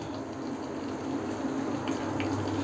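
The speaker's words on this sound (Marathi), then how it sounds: "ह्याच्यातलं वरचंच पाणी मी हलगद ओतून घेणार आहे." Water splashes and trickles steadily as the top water is poured off soaked clams, a continuous wet rushing close by with no talking.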